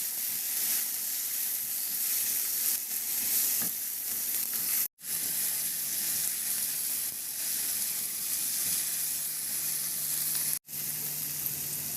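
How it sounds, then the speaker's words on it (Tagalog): Chopped tomatoes and onions sizzle and fry in a pan while being stirred, a continuous crackling hiss with soft scraping, close up, broken by two very brief cuts and with no voices. "ihalo hanggang sa maluto lang din yung kamatis"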